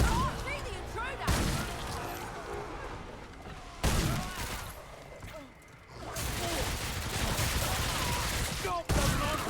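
Pistol gunfire in the video game Remnant 2, a dense rapid run of shots in several bursts with short pauses, loud and close, mixed with game sound effects.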